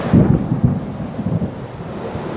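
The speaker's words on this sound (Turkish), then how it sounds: "Yağmur yağıyor." Heavy rain pours with a low rumble of thunder during a storm at Tekirova, Kemer on the Antalya coast, a dense, loud wash of noise close to the microphone.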